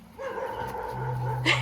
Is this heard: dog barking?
yes